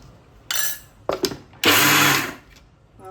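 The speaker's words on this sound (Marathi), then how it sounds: "असं थोडं थोडं फिरवून हलवून परत थोडं थोडं फिरवून असं घ्यायचं मिक्सर" Kitchen mixer grinder pulsing roasted flaxseed into a coarse chutney, three short whirring bursts with the last one longest and loudest, separated by brief quiet gaps.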